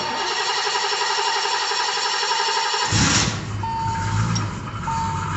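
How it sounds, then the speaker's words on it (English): A 1980 Triumph TR7's engine cranks and catches partway through, then settles into a rough idle, with a steady electronic beep tone running throughout. "I'll see if this car will start here first."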